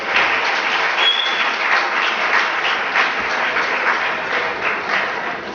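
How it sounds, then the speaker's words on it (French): Continuous audience applause at an evening event, steady dense clapping filling the room for several seconds without a break. "que je vous demande d'applaudir également"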